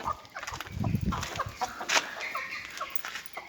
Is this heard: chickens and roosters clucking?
yes